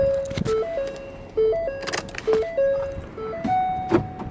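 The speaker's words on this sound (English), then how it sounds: "The lock button I hear is doing its thing." A van's door lock actuators give several sharp clunks during a snowstorm, scattered over a few seconds. They are heard alongside a repeating electronic chime tone inside the vehicle, with no talking.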